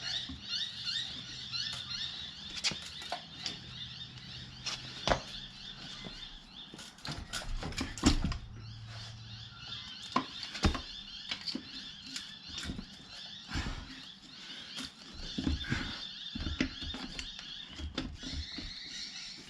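A Honda gearbox being pried and wiggled apart, close metallic clicks, knocks and scraping creaks arriving in irregular bursts over a quiet background, with occasional louder clunks.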